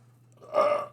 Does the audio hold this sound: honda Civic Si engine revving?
no